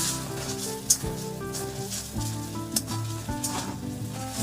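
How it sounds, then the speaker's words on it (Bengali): Ginger paste frying and being stirred in a pan, a dense continuous sizzle with regular spatula scrapes and a couple of sharp metallic taps, heard up close with no voices. "আদা বাটাটা দেওয়ার পরে একটু নাড়তে থাকতে হবে"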